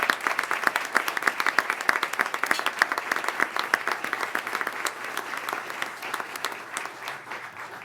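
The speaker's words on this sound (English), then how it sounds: "Can I have one more just incredible round of applause for these incredibly talented children?" Applause for children performers from the Cathedral Arts Project at a school board meeting, a dense round of many hands clapping that stays steady for several seconds and then gradually thins toward the end.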